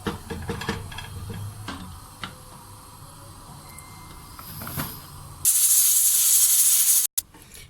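Kitchen clatter gives way to a loud, steady hiss of steam rushing out of a pressure cooker of white kidney beans, cutting off abruptly after a couple of seconds.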